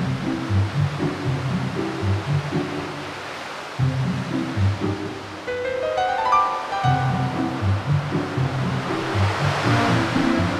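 Steady roar of surf washing in, continuous and fairly loud, with a brief rising tonal whine passing through midway.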